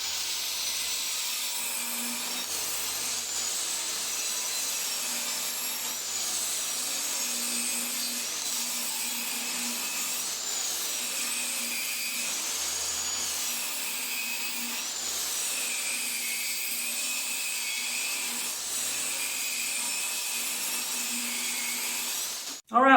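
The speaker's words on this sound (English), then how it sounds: "use the table saw and get rid of all the round over edges on our 2x3s and rip them all down to 2 inches wide" A table saw rips 2x3 wooden boards down to width, a continuous high whining hum with repeated slight rises and dips as each cut passes through, steady and fairly close throughout.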